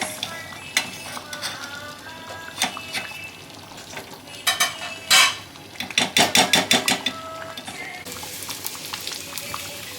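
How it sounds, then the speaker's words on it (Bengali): Two spoonfuls of ghee melt and sizzle in a pan for khichuri made with Gobindobhog rice, with a soft frying hiss under sharp clinks and a rapid run of spoon scrapes against the pan. "আমি দু চামচ ঘি দিয়েছি এটা একটু গলিয়ে নেবো"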